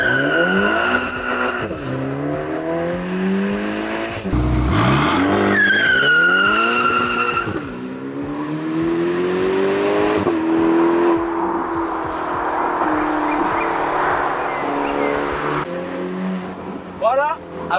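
A Ferrari Portofino convertible with 600 horsepower makes a launch start, its engine winding up through sweeping gear changes while tires squeal and skid, loud and close, with people talking at points over the engine.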